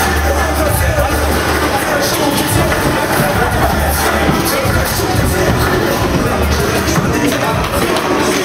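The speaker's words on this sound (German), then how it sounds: "Wir gratulieren alle mit einem Applaus." Loud crowd noise at a K-1 Muay Thai fight night, a continuous roar of clapping, cheering and babble filling the venue, with no single voice standing out.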